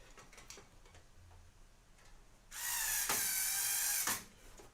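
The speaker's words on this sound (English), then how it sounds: "Never sure what to talk about while I'm just screwing things in." A powered screwdriver drives screws into computer parts during a gaming PC build, giving one loud whirring burst of about a second and a half after a few faint clicks.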